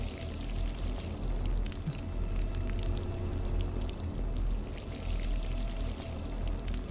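Water pours steadily in a simulator video game, a continuous splashing gush flowing for several seconds at close range with no talking over it.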